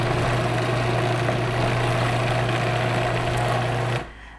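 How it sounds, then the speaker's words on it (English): A food processor pulses and whips cream cheese for an eggnog cheesecake, giving a steady, close motor whir with a low hum that runs for about four seconds and then cuts off abruptly. "With all of the cream cheese in our food processor, I'm just going to pulse it."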